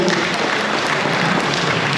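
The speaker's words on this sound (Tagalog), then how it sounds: "Palakpakan nga po natin ang ating Diyos sa buhay." A church congregation claps together at an anniversary service, a dense and loud burst of applause that holds steady for the whole two seconds.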